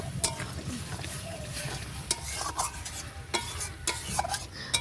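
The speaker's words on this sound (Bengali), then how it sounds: "এখানে টমেটো, আদা রসুন বাটা, পেঁয়াজ এই সব কিছু দিয়ে আর কি মশলাটা কষিয়ে নিচ্ছি" A masala of tomato, ginger-garlic paste and onion frying in a pan, giving a continuous close sizzle broken by irregular scraping and clinking stirs.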